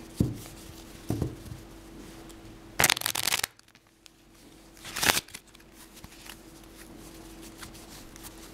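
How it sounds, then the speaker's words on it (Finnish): A deck of playing cards riffled and shuffled during a card trick, two short crisp bursts of flicking cards with quieter handling sounds around them, close and otherwise quiet. "Sitä sekoitetaan vielä sitä pakkaa."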